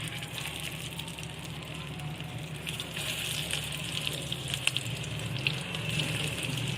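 Beef shami kebabs frying in hot oil in a home kitchen, a steady close sizzle and crackle running throughout with faint spatter pops, no talking.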